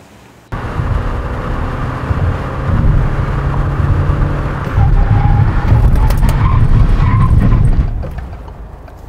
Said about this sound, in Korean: 그랜드 피카소가 100km에서 정지하는 데까지는 42m 정도가 소요되었습니다.